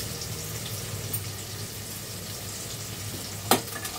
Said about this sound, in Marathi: बघा मस्त असं कांदा असा मऊ भाजून घ्यायचा